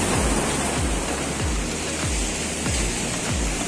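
Sea waves wash onto a beach in Cyprus, a loud, continuous broadband roar of surf and churning water close by, with no voices over it.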